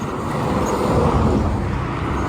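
A Freightliner truck passes on the I-10 highway with a broad, steady roar of tires and engine, rising slightly as it goes by, heard from nearby with no talk.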